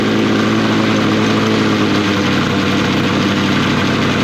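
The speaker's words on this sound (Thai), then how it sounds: "เร่งเครื่องพอประมาณนะครับ" A small fire pump engine runs loud and steady at moderate revs while drawing water, a constant droning hum with no voices over it.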